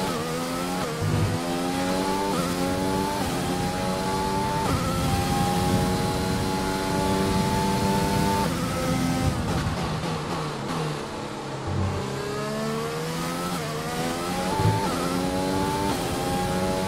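Race car engines from the F1 2020 video game during the Bahrain race scream steadily for the whole stretch, with high-pitched revs rising and falling through gear changes and loud, continuous engine tone without talk.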